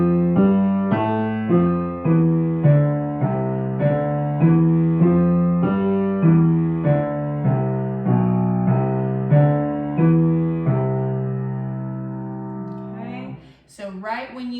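An instrument plays a rapid, evenly pulsing run of notes in both hands, starting on B, with a rhythmic repeating pattern that ends on a long held note, followed by a brief rustle.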